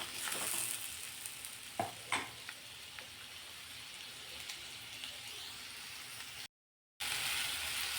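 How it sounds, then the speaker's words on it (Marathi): Tomatoes and onion frying in a pan for dum aloo gravy, a soft, steady sizzle close by with a few clicks and scrapes of stirring and a brief dropout near the end. "आता हे टोमॅटो मऊ होईपर्यंत या कांद्यासोबत आपण परतून घेणार आहोत।"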